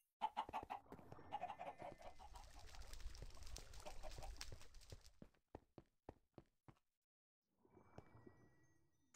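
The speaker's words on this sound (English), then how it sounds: "we're continuing on with the breeding of chickens" Chickens clucking in Minecraft's StoneBlock 3 modpack, a dense flock of short clucks and squawks for about five seconds, then a few scattered isolated clucks and a brief quieter burst near the end.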